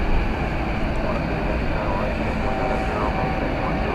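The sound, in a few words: Qantas Boeing 787-9 Dreamliner at DFW Airport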